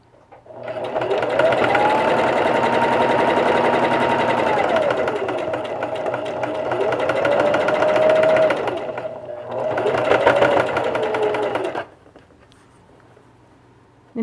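A sewing machine runs close and steady, stitching a face mask seam in a long continuous run, then two shorter bursts with a brief stop between, ending abruptly.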